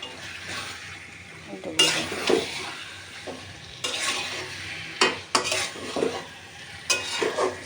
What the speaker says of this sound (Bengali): এবার নেড়ে চেড়ে মিশিয়ে মাংসটা মশলার সাথে কষিয়ে নেব সুন্দর মতন।